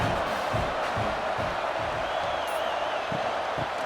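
Home crowd cheering at a college football game in College Football 26, a steady, dense roar of many voices filling the scene, with a whistle-like cry rising briefly partway through.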